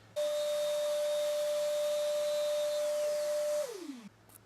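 A CNC router runs on a wooden workpiece, a loud steady whine with a constant pitch for several seconds. It then winds down with a falling tone before cutting off.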